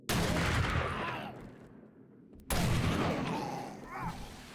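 Gunfire in 7 Days to Die (Alpha 20) crackles in two dense, loud bursts separated by a brief lull, close and harsh with a rumbling tail.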